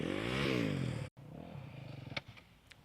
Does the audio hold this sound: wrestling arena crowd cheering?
no